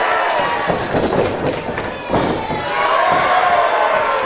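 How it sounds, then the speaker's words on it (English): A large sports crowd booing an entire team, a dense, sustained roar of many voices filling the space loudly and continuously, with swells and a few thumps mixed in. "They are booing."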